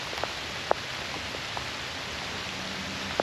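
Steady rain falls outdoors at the Bongoland ruins, a constant broadband hiss with a few sharp drops striking nearby surfaces.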